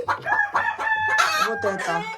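Leghorn laying hens in a chicken coop give a busy run of clucks and drawn-out calls, several birds close by and overlapping throughout.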